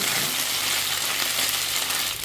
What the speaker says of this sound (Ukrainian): Буцики обов'язково треба перемішувати, аби вони з усіх сторін рівномірно поджарили.